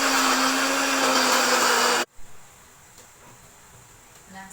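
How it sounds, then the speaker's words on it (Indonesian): A blender whirs loudly and steadily, grinding cut pandan leaves with a little water into a paste, then cuts off abruptly into quiet room tone. "Lalu kita blender hingga menjadi pasta"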